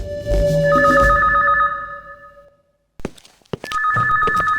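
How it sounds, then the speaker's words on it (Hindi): A mobile phone rings with a bright electronic ringtone, two bursts separated by a brief silence and a few thuds of handling. The ringing is close and loud and there is no talk. "मेरी वाइफ का फोन है।"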